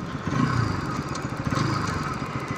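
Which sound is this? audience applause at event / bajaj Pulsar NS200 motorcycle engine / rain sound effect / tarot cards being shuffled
bajaj Pulsar NS200 motorcycle engine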